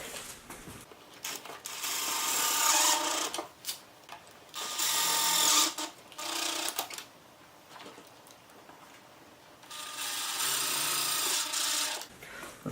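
Self-tapping screws are power-driven into plastic while an EXGO RXV amplifier is mounted, giving three loud, sustained whirring bursts of a few seconds each with quieter pauses between, and no voices.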